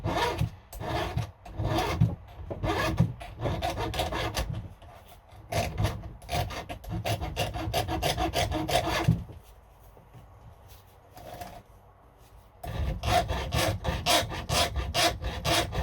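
A chainsaw's teeth are sharpened with a Husqvarna file gauge, with close, rhythmic rasping file strokes in quick bursts, a quieter pause partway through, then a fresh run of strokes, with no talk.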